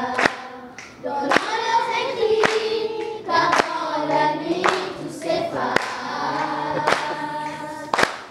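Applause for a group of children who are reading champions, a dense steady clapping that runs throughout, with sharp louder claps and an indistinct voice rising over it at times.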